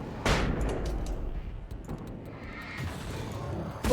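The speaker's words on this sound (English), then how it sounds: "Oh, it deafened you a bit now, flashbang." A flashbang grenade bursts in the video game Alan Wake with a loud, sudden broadband blast, followed by a noisy, ringing wash of game sound that lingers for several seconds.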